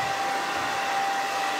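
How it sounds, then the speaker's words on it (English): A hair dryer blows in a continuous close, loud rush of air while curly hair extensions are scrunched and dried, with no talking. "scrunch this up, hit it with the dryer"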